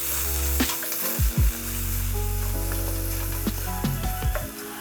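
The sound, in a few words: chorizo pieces thrown into a hot pan, sizzling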